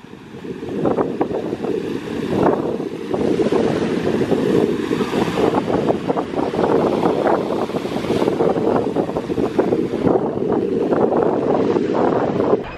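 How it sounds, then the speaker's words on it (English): Water waves wash near a lighthouse on the Georgia coast, with strong wind buffeting the microphone into a loud, continuous roar and rushing surf throughout. "I put in a raw, unedited clip of the water for a while because like I needed you guys to hear how peaceful it sounds"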